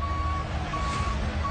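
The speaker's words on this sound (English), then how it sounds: "It's a garbage truck." A garbage truck reverses, its high, evenly spaced backup beeps sounding over a low engine rumble and the broad noise of a wrestling arena crowd.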